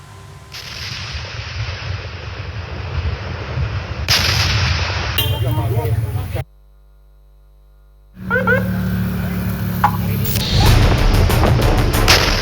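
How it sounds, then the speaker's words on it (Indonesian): A loud, sustained roaring blast from an army ammunition disposal explosion rumbles on and on, cut by a sudden stretch of silence before the heavy booming noise returns. "Tragedi ledakan saat pemusnahan amunisi tak layak pakai milik TNI Angkatan Darat"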